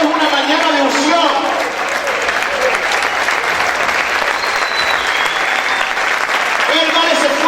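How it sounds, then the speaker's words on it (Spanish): A church congregation applauds loudly in a continuous roar of clapping hands, with a voice speaking over it at the start and end. "Vamos a aplaudir fuerte al Señor."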